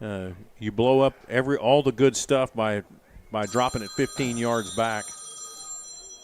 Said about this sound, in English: So that's my phone that normally is in the quiet position.